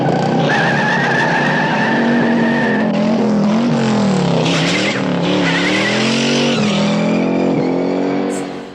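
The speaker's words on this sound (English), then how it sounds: "replaced with the sounds of burning rubber and smoking tyres" A Ford Mustang and Dodge Charger tear through steep San Francisco streets in a 1968 car chase, tires squealing loudly and continuously with wavering pitch over roaring engines, close and sustained with no talk.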